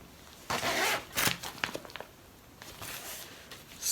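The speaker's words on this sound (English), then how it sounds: "this time I've got a little pocket with a zip." The zip on a small fabric craft pocket is pulled, giving a couple of short rasping zips followed by light clicks and rustling handling sounds in a quiet room.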